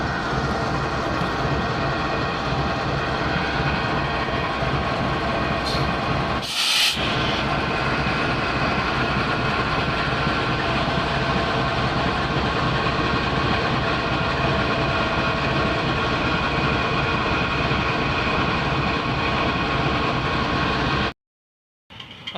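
A Pakistan Railway coal train hauled by a GEU 40 locomotive passes a level crossing, a continuous loud rumble and roar of wagons held for the full length before cutting off abruptly.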